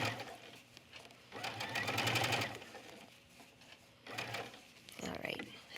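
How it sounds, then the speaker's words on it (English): A sewing machine stitching a cuff onto a fabric sleeve, running in two loud, close bursts of rapid rhythmic clatter separated by pauses, with a voice talking in between. "And again, I'm stitching."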